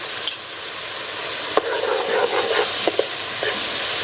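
Masala of ginger paste, a large tomato and green chilies frying and being stirred in a pan, with a steady close sizzle and occasional sharp spoon scrapes and taps throughout.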